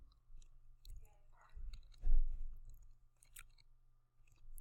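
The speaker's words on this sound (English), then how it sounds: "Sorry, I'm chewing a pretzel." Someone chews a pretzel close to the microphone, giving soft, irregular crunching and clicking bites that peak briefly midway, with no talking.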